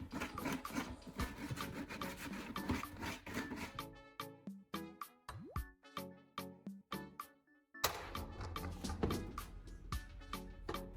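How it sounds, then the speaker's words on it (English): Sandpaper is drawn around the cut rim of a plastic bin in quick, rhythmic, scratchy strokes, close and fairly loud, with a faster stretch of evenly spaced rubs in the middle. "Now use sandpaper to sand evenly around the entire rim of the bin."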